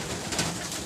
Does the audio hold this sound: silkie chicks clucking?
no